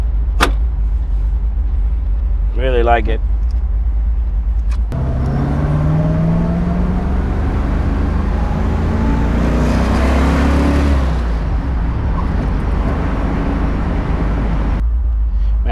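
A 1970s Plymouth Cuda with a 426 Hemi drives along a beach road on a weekend, its low engine rumble building steadily through the middle, with a brief voice near the start and a door-like knock.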